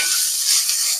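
Ginger garlic paste and turmeric fry in a little oil in a pan for a bottle gourd stew, giving a close, steady, bright sizzle with soft stirring scrapes throughout and no talking.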